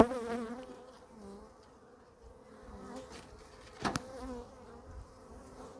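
Honeybees at an opened hive buzz defensively, a close, wavering drone that rises and dips as individual bees fly past near the microphone, with no voices heard.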